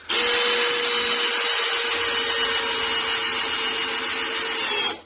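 A Makita cordless drill whirs continuously at steady high speed for about five seconds, a bright, close motor whine from start to a quick stop, with nothing else audible.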